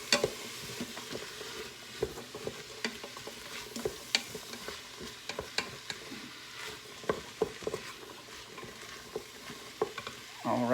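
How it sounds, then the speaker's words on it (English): Garlic sizzles in a hot pan while a utensil stirs it around, leaving a continuous soft frying hiss broken by sharp irregular scrapes and taps, with no voices. "We're going to put the garlic in. We'll get that stirred around."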